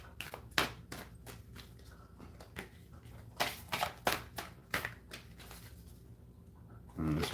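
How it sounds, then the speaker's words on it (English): Oracle cards are shuffled by hand, a series of quick papery riffles and taps in irregular bursts, fairly faint and close. "this one needs to be shuffled before that."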